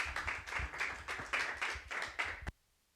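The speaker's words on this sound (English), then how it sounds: "Let's give Manfred Steyer a very warm applause" A small audience at an Angular meetup in Leoben claps to welcome a speaker. The claps come in quick, fairly even bursts and stop abruptly after about two and a half seconds.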